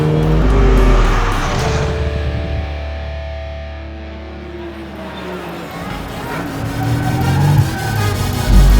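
A sporty car is driven fast on a winding road at around 3000 rpm, its rear end sliding; a loud, steady engine roar runs throughout with tire noise, while people talk and laugh over it.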